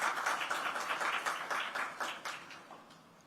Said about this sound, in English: let's give him a warm round of applause for that as well